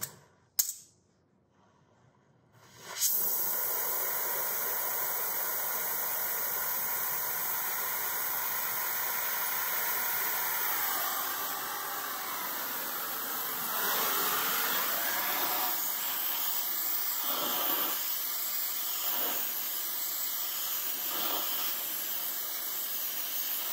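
Heat gun blowing on a metal headlight stand bar for a 1934 Ford 5-window coupe: a loud, steady airy whoosh switched on after a brief click, holding constant with slight shifts in tone as it moves.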